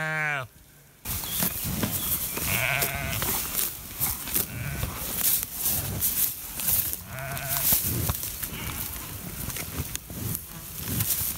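Sheep on a pasture farm bleat several times, some close and some farther off, over steady outdoor background noise and a faint buzz of insects.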